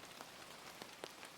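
Light rain pattering softly and steadily on a surface, faint and calm, with occasional isolated drops standing out.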